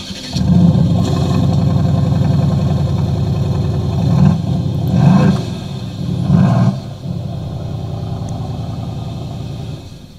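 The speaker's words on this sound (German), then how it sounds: "C63 hat einen geilen Sound. V8 Biturbo, 476 PS" A Mercedes-AMG C63 facelift's 476 hp biturbo V8 rumbles deeply and steadily at idle, broken by a few sharp revs that swell and fall back, loud and close.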